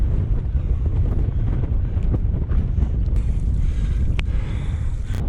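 High wind buffets the microphone on a rocky, slippery mountain ridge in poor visibility, a loud, continuous roaring rumble with gusting surges throughout.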